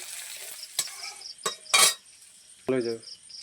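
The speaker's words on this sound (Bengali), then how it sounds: "হলুদ গুঁড়ো দিয়ে একটু নাড়িয়ে নেব তো লঙ্কা গুঁড়ো দিয়ে দেবো" Turmeric and chilli powder stirred in a pan, a few sharp, separate spatula scrapes over a faint background sizzle, with a brief spoken voice near the end.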